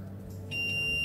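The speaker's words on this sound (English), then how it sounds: "So meter in continuity mode, so it beeps." A multimeter set to continuity mode emits a steady high-pitched beep that starts about halfway through and holds until the end, close and clear over a faint low hum.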